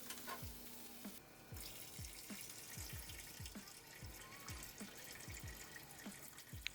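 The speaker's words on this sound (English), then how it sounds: "our noodles are done, so we're going to go ahead and strain that of all the water" Cooked ramen noodles being strained of their water in a sink, with a steady watery rush and repeated low thumps and splashes as the water drains away, close and fairly loud throughout.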